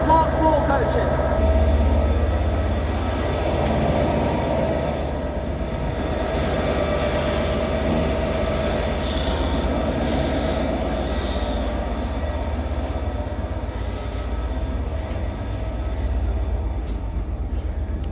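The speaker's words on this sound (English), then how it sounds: "Today I'm riding the DVT and class 67 locomotives." A continuous low rumble and rolling drone fills the interior of a Transport for Wales train, a Class 67 locomotive hauling Mark 4 coaches with a DVT, with steady engine and wheel noise throughout and a faint voice at times.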